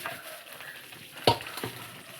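A spoon stirs tamarind rice paste frying in oil, a soft low sizzle with a sharp scrape of the utensil against the pan midway, close and quiet.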